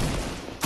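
Short burst of rapid gunfire from a silenced weapon in a video game, a quick rattling fusillade lasting under a second with a sharper shot at the end.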